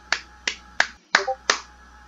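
A single person applauds themselves with five sharp, close, evenly spaced claps in a quiet room.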